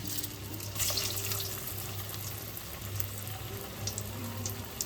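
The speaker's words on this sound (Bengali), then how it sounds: "এদিকে কড়াইতে তেলটা আমাদের গরম হয়ে গেছে। এবার আমি ডেভিলগুলো একটা একটা করে ছেড়ে দিচ্ছি।" Egg devils go into hot oil in a wok one at a time, a soft, steady sizzle with faint crackles and spits over a low burner hum.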